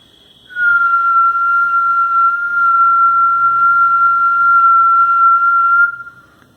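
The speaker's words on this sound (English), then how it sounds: "I'm going to repeat the experiment and blow my whistle" A single whistle is blown in one long, steady, piercing tone of about five seconds, loud and clear against near silence, starting and stopping cleanly.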